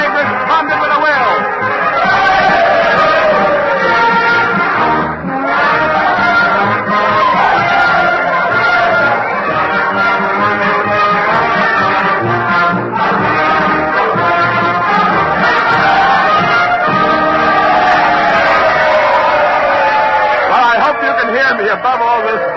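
Noisy crowd din at a Civil War-era celebration with Abraham Lincoln in a radio drama: loud, dense cheering and babble rise and fall steadily throughout, mixed with band music.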